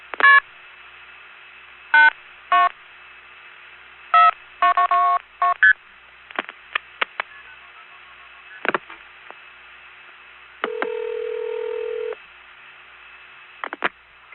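Multi-frequency telephone dialing tones on a long-distance test line, heard as quick bursts of clustered tones in irregular groups, with one longer steady tone partway through and a few scattered clicks, loud and clear with no talking.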